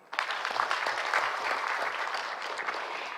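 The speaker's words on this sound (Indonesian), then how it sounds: "mohon tepuk tangan." Audience applause at a doctoral promotion ceremony at a university. Dense, continuous clapping starts abruptly and holds steady for about three seconds at moderate volume.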